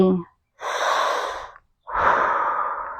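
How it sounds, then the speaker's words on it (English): Two loud, breathy mouth inhalations of about a second each, separated by a short pause, drawn in during a guided breathing exercise with no talk over them. "Breathe in through the mouth."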